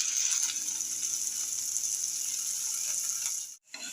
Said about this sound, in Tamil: கோல்டாக ப்ரௌன் மாதிரி நல்லா வதக்குங்க.